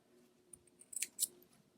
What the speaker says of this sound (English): Then I can take them and I can snip these apart.